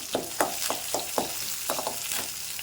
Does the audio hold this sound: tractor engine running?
no